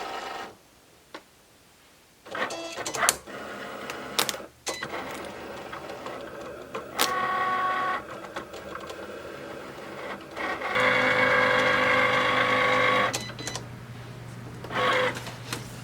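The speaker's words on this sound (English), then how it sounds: "Then we'll just cut our project with the fine point blade." A Cricut Explore cutting machine slices iron-on material with its fine point blade, whirring motor runs and stepping carriage moves in uneven stretches, close and steady, with clicks and pauses between passes and no talking.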